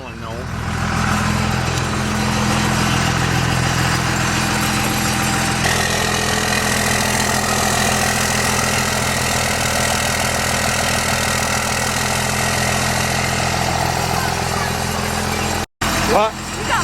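2002 Dodge Cummins diesel pickup idles loudly and steadily, a rough low rumble with a loose exhaust clamp adding a rattle, continuous and close throughout.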